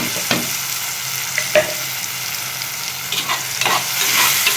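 Onion and ground tomato sautéing in a new clay pot for okra kara kuzhambu, a steady sizzle with several sharp scrapes of a stirring spoon against the pot, close and fairly loud with no talk.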